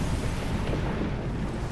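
A deep, continuous earthquake rumble in the video game Destiny, loud and broad, with a dense low roar that churns steadily without clear breaks.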